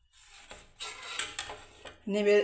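A utensil scrapes and clinks against a pot as ground cardamom is stirred into a dish, in a few uneven knocks and scrapes, with a short burst of voice at the end.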